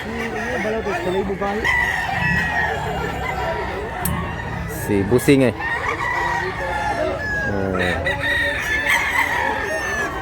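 Roosters at a busy chicken market in Mantalongon, Cebu, crowing repeatedly amid clucking hens, with crowd noise and people talking throughout.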